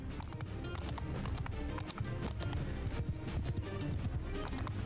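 Horses gallop in the video game Mount and Blade Bannerlord, a steady rapid drumming of hooves amid a dense battle din, loud and continuous throughout.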